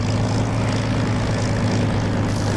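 A Spitfire's piston engine drones steadily while the aircraft taxis toward the runway in the DCS flight simulator, a loud, even propeller hum with a strong low throb and no pauses or voices.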